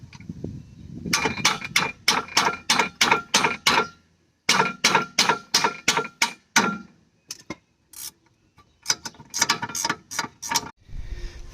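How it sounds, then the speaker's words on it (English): Repeated metallic ratcheting clicks from a box wrench working a tight bolt on the brakes of a 2012 Fiat 500, close and loud, in quick bursts of several strokes separated by short pauses. "Need to get a box wrench in here."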